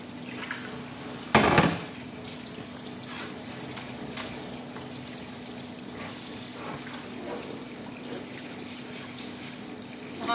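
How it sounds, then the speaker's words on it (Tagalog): Dinner plates are washed under a running tap: a steady soft stream of water, with a brief louder clattering splash near the start. "Hugasan po natin ang mga plato."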